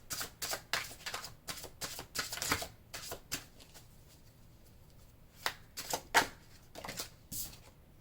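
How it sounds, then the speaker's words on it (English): Tarot cards shuffled by hand in a quiet room, a run of crisp riffling bursts and slaps that pause midway before a few more sharp card snaps, close and fairly soft. "Hang on, I want to get one more card with this."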